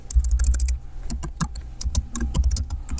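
Fast, uneven clatter of keys on a computer keyboard while text is typed into HTML code, the taps close and crisp in quick bursts with brief pauses, no voices.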